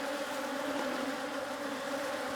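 Honeybees buzz around an open beehive in a yard, a steady droning hum close by with no voices and no break.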